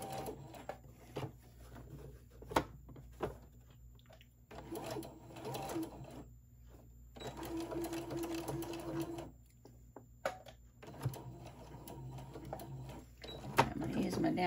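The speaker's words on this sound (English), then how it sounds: "I did a little back stitch right there just because I want it to stay." A sewing machine stitches a fabric Santa bag in bursts of close mechanical whirring, pausing between runs, with a quick back stitch; a person talks between the stitching runs.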